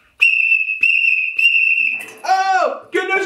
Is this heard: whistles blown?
yes